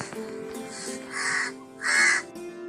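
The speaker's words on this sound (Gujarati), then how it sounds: "હવે કાગડો કેવી રીતે અવાજ કરે તે આપણે જોઈએ" A crow caws twice in loud, harsh bursts, close and clear, with quiet background in between.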